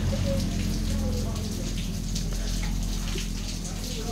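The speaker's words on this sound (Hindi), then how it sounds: "ये जो पानी है ये ऊपर टंकी ओवरफ्लो हुई है" Water overflowing from a rooftop tank in a mountain stop building, a continuous rain-like patter and splashing that stays steady and fairly close, with faint background murmur.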